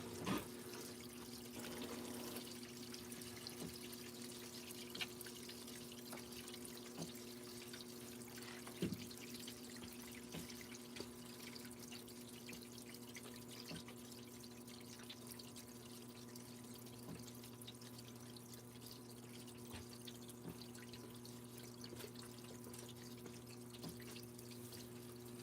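A garden hose, only 25 feet long, runs water in a steady low hiss and splash alongside a constant mechanical hum, with occasional faint drips and clicks over the course of the run.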